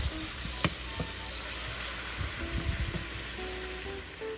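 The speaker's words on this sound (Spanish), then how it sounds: "Vamos a echar nuestro sofrito y nuestras aceitunas. Aquí eché todos mis ingredientes, vamos a sofreír todo esto por algunos 3 a 5 minutitos." Sofrito and olives fry in achiote oil for a bean stew, giving a steady, fairly quiet hiss with a few scattered clicks and taps from stirring.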